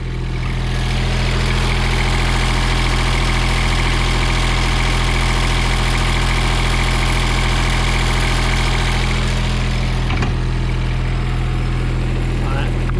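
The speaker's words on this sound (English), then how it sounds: "Hopefully I can let you listen to the motor." A 2006 Toro 3250D diesel three-gang greens mower engine idles steadily at close range, a low constant rumble with a faint vibrating drone, broken briefly by a sharp knock near the end.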